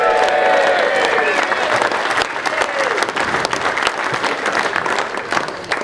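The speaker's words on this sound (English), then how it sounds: "We'll give him one more cheer" Crowd applause with some cheering fills a local community event, steady dense clapping that continues throughout at close range, with voices mixed in.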